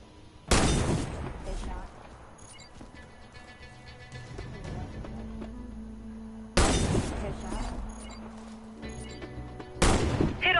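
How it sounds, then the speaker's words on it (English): Three loud, sharp sniper rifle shots in a video game, each with a long booming, ringing tail, fired at targets at irregular intervals with quieter game ambience in between. "Hit all the targets with your sniper rifle."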